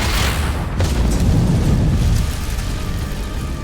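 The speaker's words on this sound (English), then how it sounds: "The deafening blast threw Shell dozens of feet through the air." A German tank cannon shell blasts in a war movie scene, a deep booming explosion that hits at once and then rumbles and decays slowly, with no speech over it.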